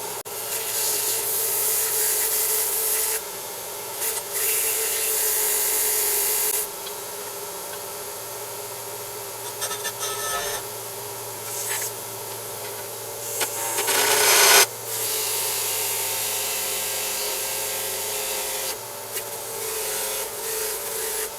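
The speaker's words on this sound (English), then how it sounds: "now let's do a little sanding. Get these burrs off it and clean it up a bit" Steady rasping of sandpaper rubbed back and forth on a metal rod to remove burrs, in long bursts separated by short pauses, close and fairly loud.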